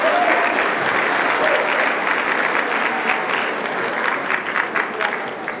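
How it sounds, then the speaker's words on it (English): Audience at a netball championship closing function and awards ceremony applauding Dr. Titus: dense, steady clapping from a large crowd, loud and continuous throughout, easing slightly toward the end. "Round of applause for Dr. Titus one more time"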